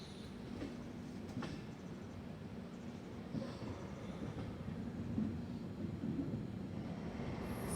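An LHB-coached Deekshabhoomi Express, train 11045 from Kolhapur to Dhanbad, rolls along with a steady low rumble and faint rhythmic wheel clatter, heard from inside the coach at moderate volume.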